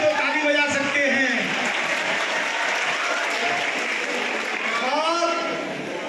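Sustained applause from an audience of journalists and attendees at a government benefits distribution event for construction workers' children, where bicycles are handed out. The clapping is dense and continuous, then tapers slightly at the end.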